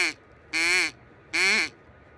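A hunting duck call blown to imitate a duck or goose gives three loud, nasal quacks, a short one then two longer ones, evenly spaced and close by.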